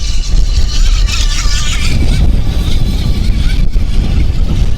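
Skytech H100 RC racing boat at full throttle makes a loud, close buzzing whine over steady splashing water and wind noise, continuous throughout.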